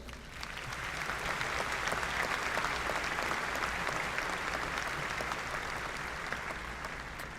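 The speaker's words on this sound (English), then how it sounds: "another round of applause" Sustained audience applause fills a university spring commencement ceremony, a dense, even patter of clapping from a large crowd lasting several seconds without interruption.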